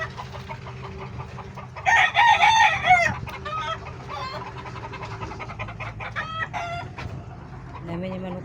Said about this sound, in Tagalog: Palibasa marami silang manok guys, eh.